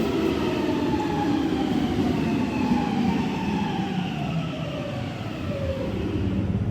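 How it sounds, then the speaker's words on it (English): Train pulling into a station in wintry Finland, a loud steady rumble of wheels on rail with gliding tonal whines and brake squeal sliding downward as it slows, continuous and close throughout. "3 images of a train station and train arriving."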